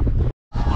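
Wind buffets the microphone aboard a Lagoon 42 catamaran under sail off Croatia, a loud steady rush that cuts out briefly mid-clip before returning.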